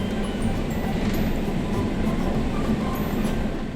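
Metro train heading toward Dakshineswar, heard from inside as a steady, loud low rumble with constant rolling noise throughout, no voices.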